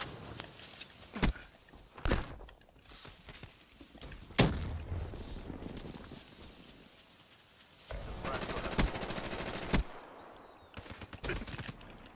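Gunfire from a Black Ops 3 weapon, sharp loud shots in irregular bursts with a sustained volley of rapid fire later on, over a steady game background.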